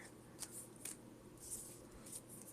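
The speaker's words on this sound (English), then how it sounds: "Let's shuffle these, and then I'll be discarding that Heavy Ball." Pokemon trading cards are shuffled by hand in a quiet room, giving soft, faint riffling and flicking with a few light snaps, no voices.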